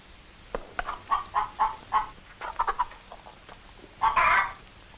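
Chickens clucking in short repeated bursts, several birds nearby, with a louder squawk near the end.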